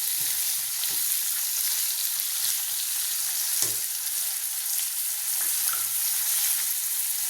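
Radish sautés in a pan for a soya radish curry, a soft, steady sizzle with scattered light taps and scrapes of stirring, fairly quiet and with no talking.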